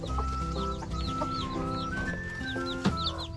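Native chickens cluck and chirp in a backyard coop on a small farm, with overlapping calls and a faint crow-like note, fairly quiet and close throughout.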